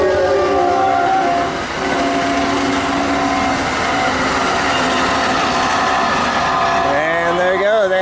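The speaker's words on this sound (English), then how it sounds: "And there it goes, Amtrak 79 by Mycroft" Amtrak 79 passenger train passing Mycroft, a loud, close and steady rumbling roar of cars on rail that holds for several seconds, with a brief rising tonal whine near the end.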